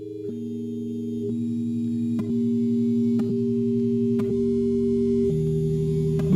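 Steady, overlapping pure electronic sine-wave tones sonifying stock prices hold and shift in pitch in small steps, with faint clicks at each change.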